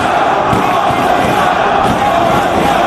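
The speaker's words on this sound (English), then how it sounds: "And there you hear the crowd there behind Homicide." A wrestling arena crowd at a Ring of Honor show roars in a steady, dense wall of cheering and shouting, loud and continuous throughout with no break.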